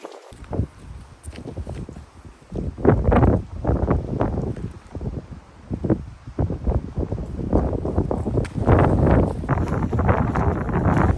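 Strong southwesterly wind on open Dartmoor moorland in winter, buffeting loudly and continuously in gusts, with rumbling microphone rush and some scuffing footsteps on the ground.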